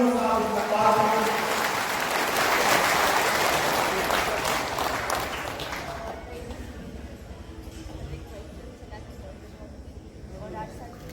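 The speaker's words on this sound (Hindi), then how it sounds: "रिफा तस्कीन के लिए का जोरदार तालियों से आप इस्तकबाल करें।" An audience at a mushaira at the Mysore Dasara exhibition claps loudly and steadily, and the clapping fades out over several seconds while a voice comes in over it.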